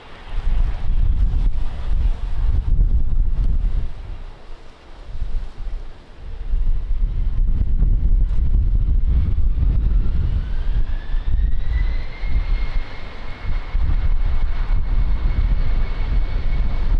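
Strong wind roars and buffets the microphone at Lisbon Airport, a loud continuous gusting rumble that dips briefly, with a faint rising aircraft engine whine toward the end.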